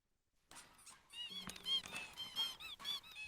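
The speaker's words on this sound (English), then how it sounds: "Rubber ducks would squeak from beyond the astral plane." Rubber ducks squeaking inside the VR game Gadgeteer, a run of high, bright squeaks in quick uneven succession, fairly quiet, with a short low tone partway through and no talking.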